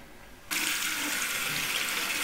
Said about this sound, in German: einfach an den Hahn gehen und die Arme unter das Wasser halten, die Unterarme, die Hände